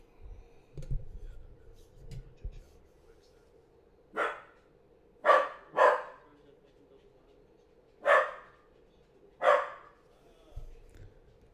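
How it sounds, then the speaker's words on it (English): A dog barks five times at irregular intervals, sharp single woofs spaced a second or two apart, fairly close, with a faint hum and a few soft knocks between them. "the dog's barking"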